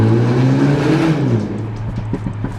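A MINI John Cooper Works F56 hatchback revving nearby, its engine note rising then dropping off, followed by a few sharp crackling pops on the overrun, loud and close with no talking.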